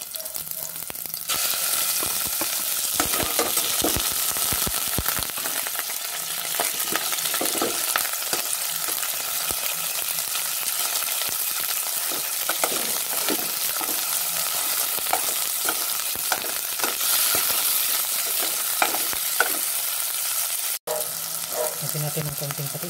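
Onion and chicken sizzling and frying steadily in a pan for macaroni soup, a loud continuous hiss with occasional stirring scrapes and no talk.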